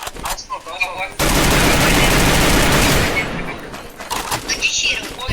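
Automatic gunfire from the Free Fire video game rattles in a loud, sustained burst after brief opening shots, fading into scattered sounds while players talk over the game audio.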